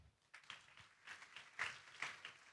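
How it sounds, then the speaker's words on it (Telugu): Church congregation clapping in a sermon hall, a faint, scattered patter of hands rising into several louder bursts over two and a half seconds. "చప్పట్లు కొట్టాలి దానికి."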